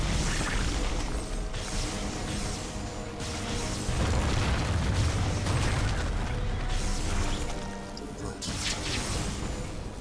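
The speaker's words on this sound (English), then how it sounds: "If we fire on the rock formation, it will seal the opening." Rock formation in StarCraft 2 being fired on and crumbling, heavy booms and rumbling bursts rolling continuously under dense game noise, loud and close throughout.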